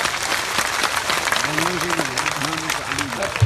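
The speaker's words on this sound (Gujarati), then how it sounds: "બે હાથ ઊંચા રાખીને તાળીઓ પડે" At a political rally of an OBC SC ST unity forum on unemployment in Patdi, a crowd claps in a dense, sustained burst while a voice carries over the applause.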